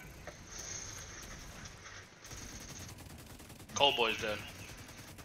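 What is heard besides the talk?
gunfire in a video game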